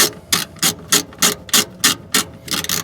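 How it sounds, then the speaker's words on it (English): An 8mm socket wrench ratchets a relay off its mounting bolt on a John Deere 6x4 Gator, giving about nine loud, close clicking bursts in an even back-and-forth rhythm with no voices. "removing the old relay from its mounting bolt, and this is the 8mm socket wrench"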